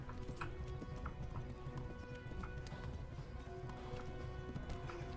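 A horse gallops in the Kingdom Come: Deliverance video game, its hooves clip-clopping in a quick, steady rhythm close by and loud, with faint game sounds underneath.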